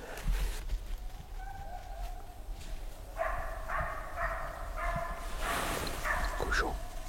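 Several hunting dogs bark and yelp in the middle distance during a wild boar hunt, in irregular bursts over outdoor background noise.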